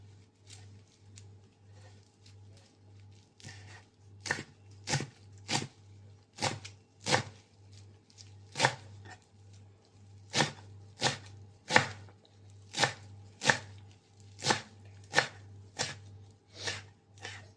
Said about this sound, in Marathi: ती आता एकदम व्यवस्थित चिरून घेऊ बारीक